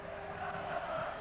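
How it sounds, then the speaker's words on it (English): A rugby league crowd cheering at St Helens versus Wigan: a steady, distant roar of massed voices that swells slightly midway, heard faintly and with no clear talk on top. "Listen, this crowd here, they're going balmy."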